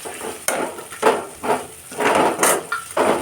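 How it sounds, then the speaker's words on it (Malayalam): Onions and green chilies being sautéed in a pan for a mushroom masala, with a utensil scraping and knocking against the pan in steady, repeated close strokes and no voices. "സവാളയും പച്ചമുളകും ചേർത്തിട്ട് നന്നായി വഴറ്റിയെടുക്കാം."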